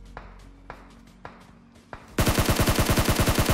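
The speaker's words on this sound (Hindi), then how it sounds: "अब फिर से देखो फायरिंग चलने लगी।" Gunfire in the mobile battle-royale game PUBG Mobile: a few sparse distant single shots at first, then a sudden loud, rapid automatic burst that continues steadily to the end.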